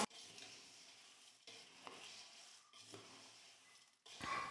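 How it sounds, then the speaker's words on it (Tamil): Curry leaves are stirred lightly into a fried South Indian mixture snack, producing faint dry scraping and rustling strokes in short separate passes, soft and close, ending with a brief louder crackle. "நீங்கள் கருவேப்பிலையை சேர்த்து கலந்து கொடுத்துக்கோங்க லைட்டாக"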